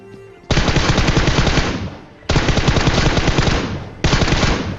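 Gunfire in the PUBG Mobile video game comes in three loud automatic bursts, each a dense rattle of rapid shots separated by brief pauses.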